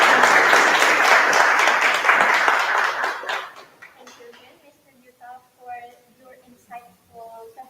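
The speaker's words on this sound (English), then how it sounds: "a round of applause for Mr. Gisela." Conference audience at a PyCon APAC 2024 session applauds after a talk: dense clapping fades out over a few seconds, then a host begins speaking.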